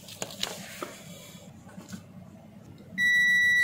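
A multimeter in continuity or diode mode beeps on a shorted MOSFET from a 3000VA solar inverter, giving one steady tone that starts near the end and holds after faint handling and taps.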